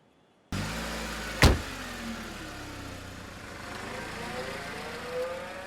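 A car engine starts with a sharp crank and settles into a steady, close running drone with a gradually rising pitch as the vehicle pulls away, with no voices over it.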